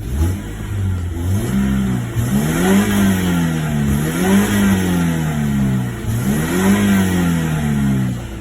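A BMW E46 engine revs up and down repeatedly, failing to rev over 4,000 rpm, pitch rising and falling in several loud sweeps over a steady engine drone, with no talking.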